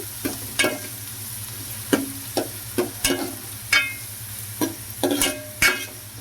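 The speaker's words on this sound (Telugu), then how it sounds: "ఉల్లిపాయలు అయితే వేసేసుకుంటున్నాను అలాగే పచ్చిమిర్చి చక్కగా ఇవి గోల్డెన్ కలర్ వచ్చేంత వరకు అయితే వేయించుకున్నామండి" Chopped onions and green chillies frying in a pan for a ridge gourd curry, a low steady sizzle broken by about a dozen sharp spatula scrapes and taps at irregular intervals.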